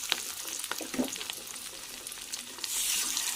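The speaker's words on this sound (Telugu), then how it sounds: "అవి ఒక 15 మినిట్స్ వరకు ఫ్రై చేసుకోవాలి మీడియం ఫ్లేమ్ మీద." Large fish pieces fry in oil over a medium flame, a close, busy sizzle with crackles and a stirring scrape, then a brighter hiss swelling toward the end.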